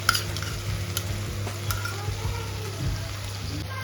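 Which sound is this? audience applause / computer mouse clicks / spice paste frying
spice paste frying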